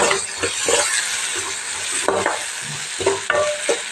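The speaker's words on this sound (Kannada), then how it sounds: "ನೋಡಿ ಸ್ನೇಹಿತರೆ ಇವಾಗ ಟಮಾಟಿ ಹಾಕ್ಕೊಂಡೆ" Tomatoes tossed into a hot frying pan and stirred, with a loud close sizzle running throughout and repeated scraping strokes of a spoon against the pan at an uneven rhythm, no voices.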